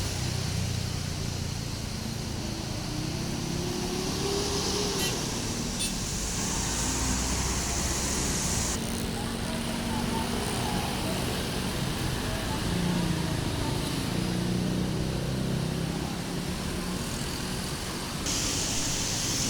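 Idling engine of an Agramas intercity bus, Jakarta–Jogja–Klaten route, waiting at a crowded bus agent before departure, a steady broad rumble with surrounding traffic noise and faint background voices.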